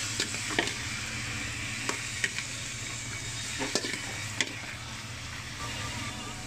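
Chicken sizzles steadily in a pan for a chicken curry, with a constant frying hiss broken by occasional light clinks and scrapes of stirring.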